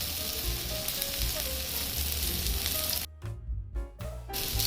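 Vam fish pieces fry in oil on a charcoal stove, a steady close sizzle that drops away briefly and then resumes, with no talking.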